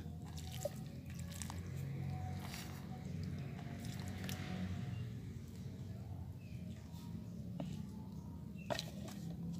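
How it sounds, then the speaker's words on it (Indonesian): Water trickles and drips steadily as compost is watered in a potted bougainvillea outdoors. The sound is soft and close, with scattered drips and faint bird calls in the background. "ini komposnya kita siram juga ya agar melekat dengan tanah"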